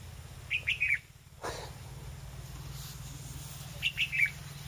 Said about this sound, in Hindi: ओ परिंदा वेखो किवें चहचार है